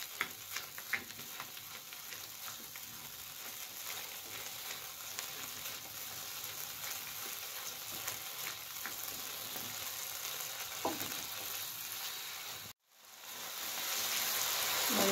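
Spice paste for spicy squid sautés in a pan with a continuous, dense sizzling hiss and faint scattered pops. The sound cuts out sharply for a moment near the end, then resumes. No voices are heard.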